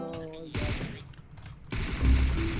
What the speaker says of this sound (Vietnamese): Ôi nó bắn mình kìa